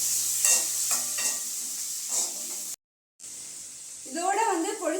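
Tomato pieces sautéing in a pan with a light hiss, broken by a few spoon scrapes and a brief gap of silence, while a voice talks over the last second.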